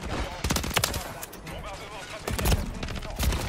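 Rapid bursts of automatic gunfire in Call of Duty MW3 multiplayer crackle in clusters of close shots, mixed under excited French chatter between players.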